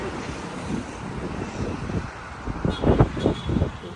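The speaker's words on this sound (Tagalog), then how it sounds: "Sobrang hangin." Strong wind buffets the microphone in gusty rumbling bursts, with a distant wash like surf, growing louder toward the end.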